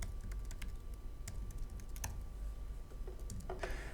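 Quiet, close clatter of computer keyboard keys typing a short phrase, irregular quick taps with brief pauses, no talk.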